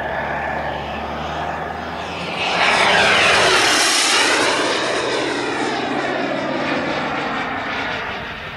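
An RC model jet aircraft at an outdoor flying field in Tokoroa roars past with a loud turbine whine that swells and sweeps in pitch as it passes, then fades back to a steady distant hiss.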